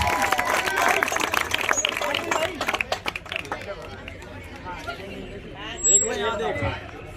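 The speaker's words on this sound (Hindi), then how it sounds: "तालियां बस्तियों में तालियां करें।" A crowd claps at the prize ceremony for a 3 km children's running race in Yamuna Vihar. Brisk, dense clapping over outdoor chatter fades after a few seconds, leaving voices and background hubbub.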